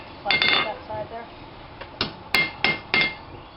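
Hot steel hammered flat on an anvil while forging a hook, a run of sharp ringing metallic strikes in an uneven rhythm, close and loud, with a voice speaking between blows.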